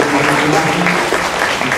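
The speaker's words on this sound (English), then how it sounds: "please give a round of applause" Conference audience applauding after a speaker is introduced at a judiciary session, a dense steady wash of many hands clapping at once, loud and close throughout the short stretch with no clear break.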